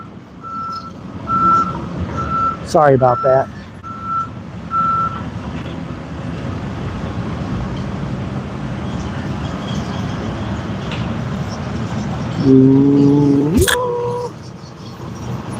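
A city street repair truck backs up with steady, evenly spaced reversing beeps over a busy outdoor rumble of work noise, then a louder mechanical burst near the end; a voice speaks briefly.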